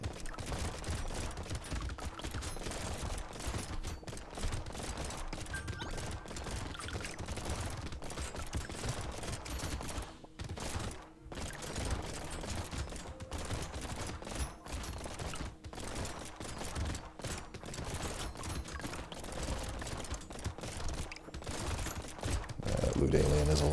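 Rapid, dense gunfire from a shooter video game, with sustained bursts and volleys that barely let up, plus occasional mechanical clicks. A voice talks at times over the shooting.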